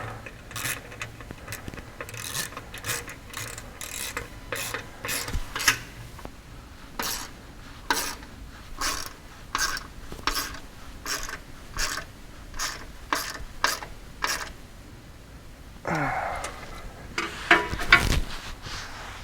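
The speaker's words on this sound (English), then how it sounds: "take a 7/16 wrench, and you're just going to grab the hex on that nut plate and tighten it down" A 7/16 wrench ratcheting and tightening a skid plate nut on a RZR Pro XP4, a steady run of clicking metallic strokes up close, ending with a few louder clanks.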